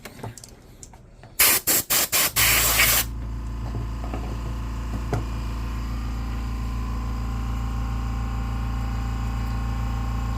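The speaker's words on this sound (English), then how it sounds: "I get every little corner, every little bit of dirt, then we blow it out." Short sharp bursts of compressed air blow dirt out of a Talica 16 fishing reel during servicing, followed by a longer hissing blast that settles into a steady low hum.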